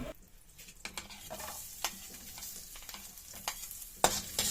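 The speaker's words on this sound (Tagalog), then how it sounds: "Igigisa na po natin ito pong bawang." Garlic sautés in oil and a tablespoon of butter, making a soft, continuous sizzle broken by regular scrapes and clacks of a spatula stirring the pan, with one sharper clatter near the end.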